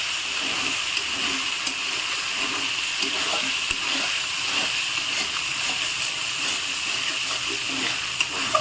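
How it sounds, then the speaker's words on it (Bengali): Meat tipped into a pan of oil-separated spice gravy, giving a steady, moderately loud sizzle and hiss with soft bubbling, continuing evenly without talk. "এবার মাংস ঢেলে দেবো।"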